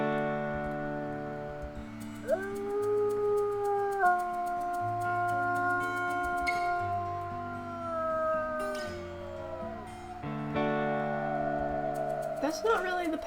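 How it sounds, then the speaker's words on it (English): Several wolves howling together in WolfQuest: Dragon Pack, long overlapping tonal howls rising and sliding in pitch, with a chorus of voices layering in and some yips near the end. "we are still gonna do a howl"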